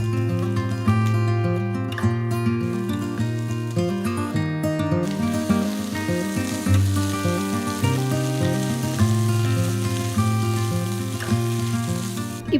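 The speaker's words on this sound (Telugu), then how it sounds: "ఇప్పుడు ఒక టీ స్పూన్ అంత తరిగిన అల్లం వేసి వేయించిన తర్వాత బంగాళదుంపలు బఠానీలు కూడా వేసి వేయించాలి" Chopped ginger, potatoes and peas frying in a pan, with a steady sizzle and crackle of hot oil running throughout under music, without talk.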